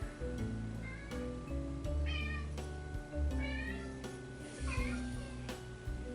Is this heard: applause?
no